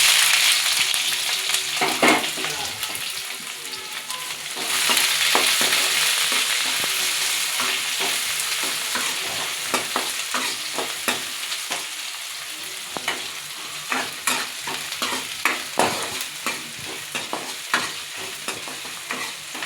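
Two medium onions roast in a hot pan for hotel-style pepper chicken, a dense close sizzle with frequent scraping and stirring strokes that grow quicker and more rhythmic toward the end.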